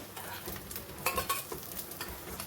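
Leftover masala khichdi kebabs shallow frying in oil in a pan, a steady sizzle with a few scraping turns of a spatula and light clinks, close and alone.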